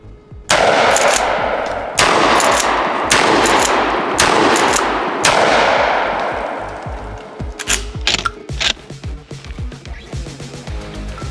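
1897 trench-style pump shotgun firing 12 gauge buckshot outdoors: four loud, evenly spaced booms with long decaying echoes, followed by quieter clicks and clacks of handling.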